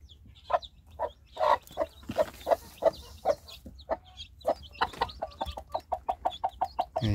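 A hen clucks close by beside her newly hatched chicks, giving a steady run of short, rhythmic clucks that come faster and more evenly toward the end, with faint chick peeps and quiet ambience underneath.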